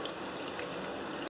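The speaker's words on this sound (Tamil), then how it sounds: "தண்ணி ஊற்றிக்கலாம்." Water pours steadily into a pan for boiling garlic and dried red chillies, a continuous close splashing stream lasting just over a second before cutting off abruptly.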